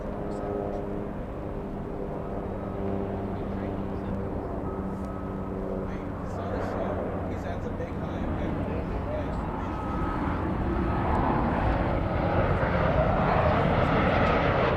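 Southwest airliner taking off from runway 24 left at LAX, a distant jet engine roar building steadily over fifteen seconds, with tonal whine early on and broadband rumble swelling toward the end, heard under radio chatter.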